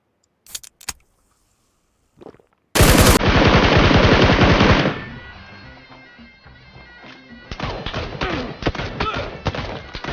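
Gunfire in PUBG Lite on the Miramar map: a couple of isolated shots, then a loud sustained burst of rapid automatic fire, a fading tail, and another volley of shots close by.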